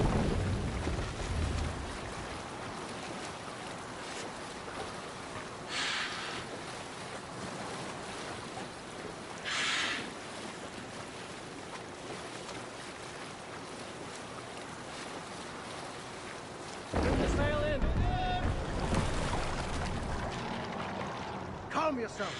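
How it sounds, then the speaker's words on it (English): A Viking longboat rowed through open water in Assassin's Creed Valhalla gives a steady wash of water and waves, with occasional oar splashes. The surge swells louder toward the end. "You must row in these waters."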